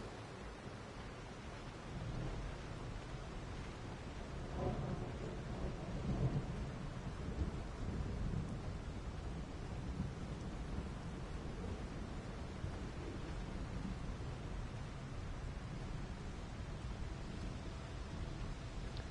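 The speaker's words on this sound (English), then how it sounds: "This thunder is fucking with my hearing right now." Low rolling thunder rumbles on and off through steady rain in the dinosaur survival game Path of Titans, a constant stormy wash with deeper swells partway through.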